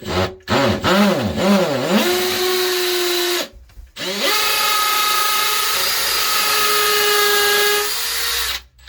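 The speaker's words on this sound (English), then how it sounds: "Try and keep your drill as straight as possible, but it can sometimes wander on a solid wall." A power drill whines loudly in two long bursts separated by a short pause, pitch rising as it spins up, grinding steadily into a solid brick wall.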